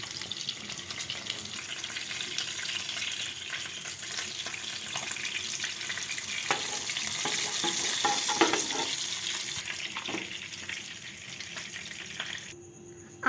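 Pieces of fish frying in hot oil for a Bengali fish curry hiss and crackle steadily, swelling louder in the middle with some scraping stirs before dying away abruptly near the end.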